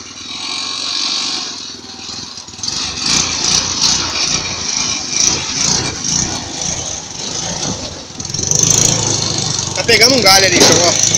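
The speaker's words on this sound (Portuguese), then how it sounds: "O trator tá ajudando bastante." A homemade tractor's small engine runs steadily with a rough, rattling drone while hauling dirt, growing louder toward the end, with some clanking over it.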